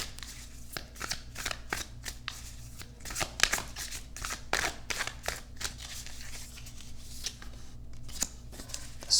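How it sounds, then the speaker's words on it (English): Wild Unknown Animal Spirit oracle cards are shuffled by hand in a steady run of soft riffling flicks and slaps, close and fairly quiet, with no talking. "I'm just going to shuffle 3 times,"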